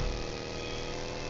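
A motorbike engine in PUBG runs steadily at close range, a continuous droning hum that holds the same pitch for a moment with nothing else over it.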